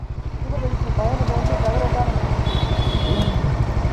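A Suzuki Hayabusa motorcycle rolls up close, its engine throbbing in a rapid, even low pulse that stays loud and steady while people talk over it.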